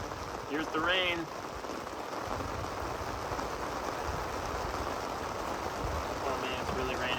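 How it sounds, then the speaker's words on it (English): Rain patters steadily on a fishing boat's canopy during a striper fishing trip in Connecticut, a dense, even hiss with a brief voice near the start. "it's really raining"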